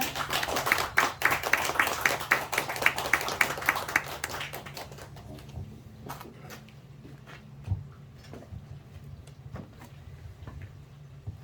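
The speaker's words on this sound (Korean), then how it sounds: "관장님 박수로 맞춰주세요." At a library book talk, an audience claps to welcome the author for about four seconds. The applause then fades into a quiet room with a few scattered taps and shuffles.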